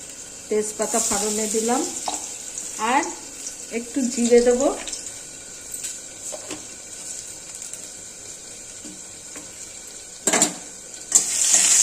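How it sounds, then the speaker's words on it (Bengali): A dried red chilli goes into hot oil as a tempering for dal, and the oil crackles and sizzles near the microphone amid stirring and other kitchen clatter. Someone talks at the start. "ডালটা সম্বারের জন্য একটা শুকনো লঙ্কা ফড়ন দিলাম"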